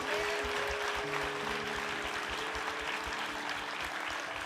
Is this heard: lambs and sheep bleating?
no